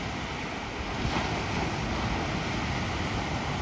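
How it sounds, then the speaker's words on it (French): Huge ocean waves break in a loud, continuous roar of surf, with wind buffeting throughout and no voices. "Mais les vagues sont énormes."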